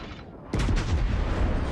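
Warship guns firing in a naval battle video game, a sudden loud boom after a brief quiet lead-in, then a rumbling, crackling barrage that sustains at close range.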